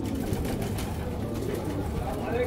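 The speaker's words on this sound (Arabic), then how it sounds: "حمام جميل جدا" Pigeons coo among steady crowd murmur and market bustle at the Souq al-Ghazl bird market in Adhamiya, Baghdad, where English Carrier pigeons are sold; the soft cooing sits under continuous background noise.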